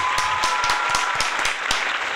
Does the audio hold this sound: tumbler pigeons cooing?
no